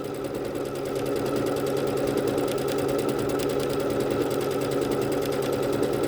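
A Bernette B-77 embroidery machine stitches out a design, giving a steady, loud, fast mechanical whir and rapid needle rhythm that runs unbroken for several seconds with no voices.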